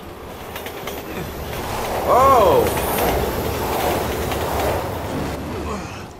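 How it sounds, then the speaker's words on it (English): A train in the video game Resident Evil 6 rumbles past with clattering wheels and a brief high wheel squeal midway, loud and close, while a man exclaims once over the noise. "Is that a train?"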